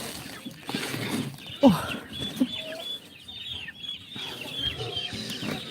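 Hens cluck and squawk close by in a farmyard, with a couple of sharp louder calls standing out among scattered clucks and low background rustle.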